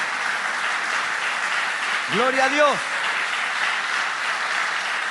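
Sustained crowd applause fills the whole stretch, steady and dense, with a voice briefly calling out over it midway.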